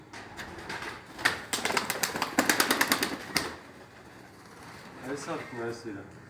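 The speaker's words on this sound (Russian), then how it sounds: "Это наши курганские игровые голуби" Kurgan tumbler pigeons in Dushanbe, with a burst of rapid clattering wingbeats in the middle followed by soft, low cooing toward the end, heard fairly close.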